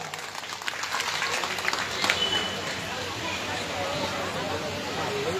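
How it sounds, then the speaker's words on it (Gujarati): Audience at a live religious gathering applauding, a steady wash of clapping mixed with crowd murmur and voices throughout. "જોરદાર તાળીઓ પાડો બાપા"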